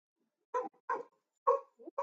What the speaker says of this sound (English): Ooh, that's my dog here there.